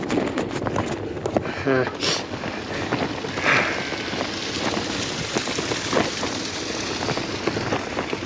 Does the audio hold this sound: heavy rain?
yes